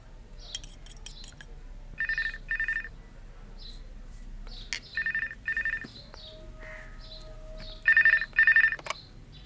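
A telephone rings in three double bursts, each pair of shrill electronic trills separated by a short pause, loud and close against a quiet room with a few faint clicks and rattles between rings.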